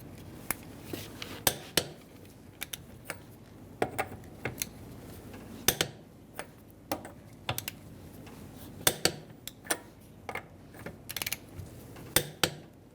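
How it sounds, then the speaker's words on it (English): A torque wrench with a 19mm socket tightens the wheel lug nuts on a 2000-2007 Ford Taurus, with sharp close ratcheting clicks in irregular bursts over a quiet background, no voices. "Using a 19mm socket and a torque wrench, I'm going to torque the wheels to 95 foot-pounds"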